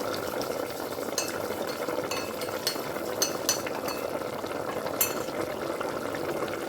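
Potato curry with gram flour batter bubbles and sizzles steadily in a pot while a spoon stirs it, with occasional sharp metallic clinks against the sides.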